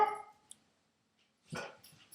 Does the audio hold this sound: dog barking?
yes